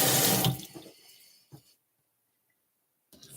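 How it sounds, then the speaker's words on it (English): Tap water pours loudly from a faucet into a sink while a carrot is rinsed, then cuts off within a second, leaving a few faint clicks and near silence. "And I'm going to rinse off my carrot."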